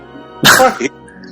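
A single loud, close sneeze bursts out in one sharp explosive blast with a short trailing breath, set against quiet room tone.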